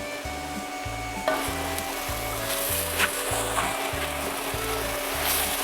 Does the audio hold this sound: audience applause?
no